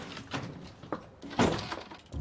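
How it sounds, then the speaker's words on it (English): Knock and kick against an office door with a metal manager's sign, heard as a few dull wooden thuds and a louder crashing impact near the middle, close and fairly quiet, with a low knock at the end. "Nobody seemed to mind my kicking the door in."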